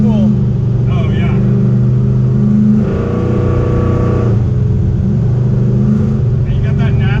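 A 1968 Ford Mustang Fastback engine held at about 2,500 RPM gives a steady, rattling drone, heard under loud nearby conversation.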